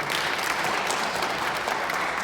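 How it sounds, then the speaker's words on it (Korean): Loud, steady applause from an audience fills the whole stretch, dense and continuous, honouring committee chairman Lee Tae-soo at a Sejong City welfare standards press briefing. "우리 이태수 위원장님께 다시 한번 뜨거운 박수 부탁드립니다"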